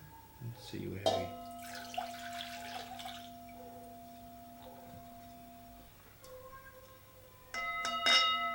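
Water trickles and pours into a Himalayan singing bowl, which rings with sustained, humming tones that fade slowly; a voice speaks briefly over it.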